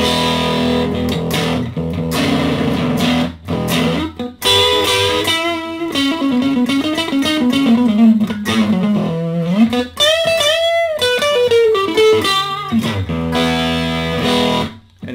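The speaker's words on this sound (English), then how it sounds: "Let's put on a Big Muff distortion on here." An electric guitar played through a Big Muff fuzz distortion pedal into a portable amp, thick sustained notes and choppy chords with a bending lead line, loud and up close.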